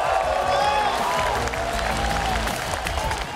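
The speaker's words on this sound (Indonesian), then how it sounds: "Tepuk tangannya dahsyat penuh rasa cinta." Audience applause at a political coalition event, crowd clapping mixed with cheering and overlapping voices, continuous and loud throughout.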